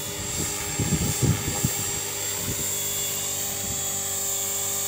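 HK450 RC helicopter landing as its rotor speed winds down, a steady whining hum close by with brief low thumps early on, settling into a continuous drone.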